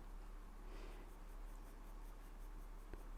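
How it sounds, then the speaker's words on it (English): A 2H pencil shading on drawing paper: a close, soft, continuous scratchy rasp of graphite strokes under a steady low hum, with one small tap near the end. "we're just going around our drawing now, just using our 2H pencil"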